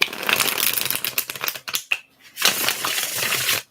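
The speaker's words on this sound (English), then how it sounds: "Wait there patiently while I shuffle the cards." A deck of tarot cards is shuffled close up in quiet ASMR fashion, two bursts of crisp riffling and flapping with a short silent gap between them.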